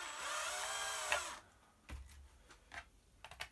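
A step drill cuts a hole in an electronics project box, a loud high whine lasting over a second that stops abruptly, followed by several sharp clicks and knocks of handling.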